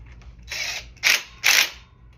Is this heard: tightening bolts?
yes